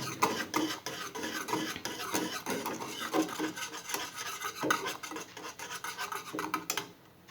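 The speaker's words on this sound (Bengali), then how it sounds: "চুলার জাল অফ করে দিলাম একটু হাত দিয়ে একটু নেড়ে ঠান্ডা করব" Hot homemade orange jelly stirred by hand in a pot after the heat is switched off, a steady, close rasping scrape of utensil against metal repeating without pause, with no talking.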